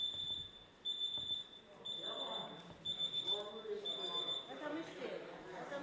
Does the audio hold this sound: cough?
no